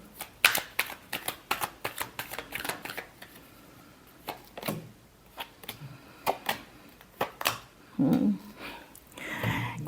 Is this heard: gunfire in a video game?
no